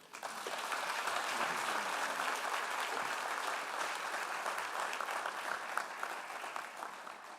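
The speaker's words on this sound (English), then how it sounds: "Let's give a round of applause for our Master of Ceremonies, William Allen Young." Steady audience applause fills a banquet hall at a chancellor investiture ceremony held at the Disneyland Hotel, a dense, even wash of many hands clapping that holds throughout without speech.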